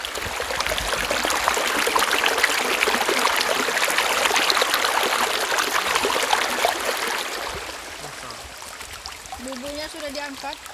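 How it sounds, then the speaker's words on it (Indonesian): Water trickling and flowing steadily beside a fish trap being checked, a close, continuous wash that thins out toward the end, with faint higher tones near the close. "Kita coba ASMR airnya."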